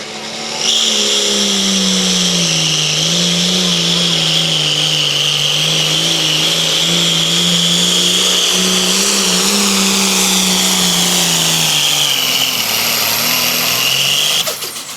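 A loud old tractor engine roars and strains continuously in a tractor pull, with a steady low drone, pitch wavering slightly before dropping off near the end.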